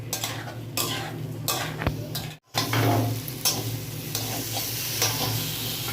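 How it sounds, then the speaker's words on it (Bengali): Spice paste and potatoes fry in a pan with a steady sizzle, while a spoon scrapes and stirs with repeated clinks and knocks against the metal, close and moderately loud. "এবার মশলাটাকে খুব ভালো করে আলুর সাথে কষিয়ে নেব।"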